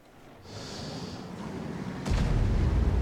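In a tank video game, French B-C 155 58 artillery fires on the Aérodrome map. A rising rush builds, then a heavy, booming shell blast erupts and rumbles on loudly.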